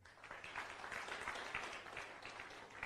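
Applause from the audience at a motivational success seminar, a quiet, distant patter of many hands clapping that holds steady for a few seconds before the talk resumes.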